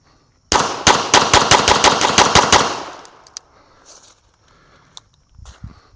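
Pistol fired in a fast string during a shooting drill, about a dozen loud, sharp, evenly spaced close shots in under three seconds, then a quiet pause with faint clinks.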